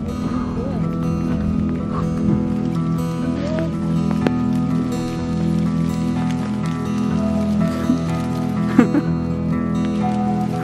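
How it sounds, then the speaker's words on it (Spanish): Rain pattering steadily outside a treehouse cabin, a close, continuous drumming of drops on the surface under a low hum, with scattered brief sounds and some talk over it. "Está empezando a llover"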